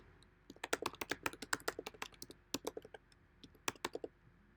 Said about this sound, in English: if we type in the new email address